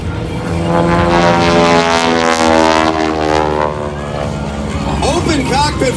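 An open-cockpit vintage biplane flies low during an air show routine in Redlands, California, its loud propeller engine droning steadily as it passes, with an announcer talking over it.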